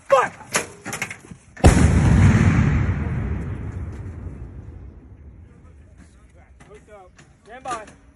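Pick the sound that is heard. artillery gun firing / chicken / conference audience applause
artillery gun firing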